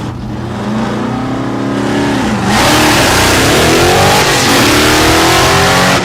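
A stick-shift drag racing car at Thunder Valley in Noble, Oklahoma, revs loud and close, its engine note climbing through rising pitch sweeps, then surging into a harsh, full-throttle roar.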